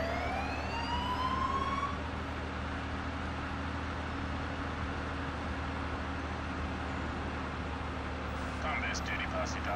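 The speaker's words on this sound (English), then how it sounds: "I feel like the siren ought to make you go faster, too." A rising and falling emergency vehicle siren in SimCity 4 wails for the first couple of seconds over a constant engine rumble and noisy background, then fades into steady drone.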